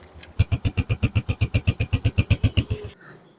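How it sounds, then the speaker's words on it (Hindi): A Honda 125 motorcycle engine cranks with a rapid, even series of loud chugging pulses for about three seconds, then cuts off to a quiet hum. "बस जस्ट बगैर एक्सीलेटर के स्टार्ट करेंगे और आपकी मोटरसाइकिल बिल्कुल स्टार्ट है।"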